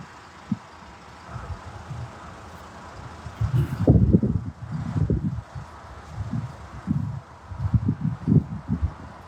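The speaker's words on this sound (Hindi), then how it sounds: "हवा चल रही है।" Cold wind blows outdoors in gusts, with low rumbling buffets against the microphone that swell and fade unevenly, fairly close and with no one speaking.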